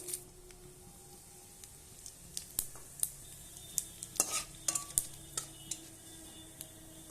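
Dried red chillies, bay leaves, cardamom, cinnamon and cumin seeds drop into hot oil, giving a soft sizzle punctuated by scattered sharp pops and clinks of a utensil against the pan, close and fairly quiet.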